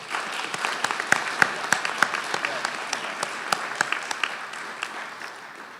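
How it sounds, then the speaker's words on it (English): A modest audience claps at a sonography program pinning ceremony, individual sharp claps standing out in an uneven, lively patter that slowly thins toward the end. "We owe these individuals another round of applause"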